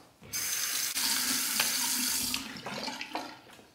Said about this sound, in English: Nice cold water rinse.